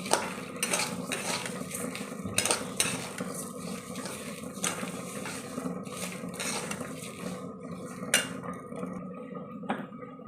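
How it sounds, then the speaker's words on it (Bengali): Spices are stirred and fried in a pan with cashews and raisins for pulao, giving steady sizzling and frying with frequent metal spoon scrapes and clinks against the pan, close and continuous. "সমস্ত কিছু দিয়ে একটু ভালো করে আমি ভাজবো।"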